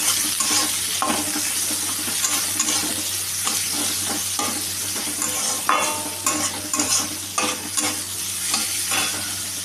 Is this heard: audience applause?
no